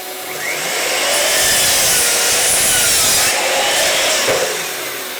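A saw rasps steadily through wood while a workstation part for a wood turning setup is cut back. Close and loud, it runs in one continuous stroke-heavy burst that fades slightly at the end.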